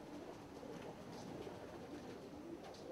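A pigeon cooing softly and faintly in a quiet space, low soft coos repeating over a steady hum of background noise.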